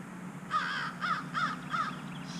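Crows cawing outdoors beside a Honda Shadow Phantom motorcycle turn-signal repair, four loud harsh caws in a steady rhythm over a constant background hiss, with no talking.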